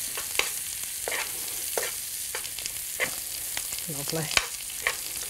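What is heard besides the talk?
mackerel frying in pan with bacon fat and oats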